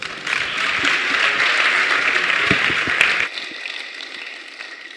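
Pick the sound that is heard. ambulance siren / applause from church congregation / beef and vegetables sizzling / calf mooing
applause from church congregation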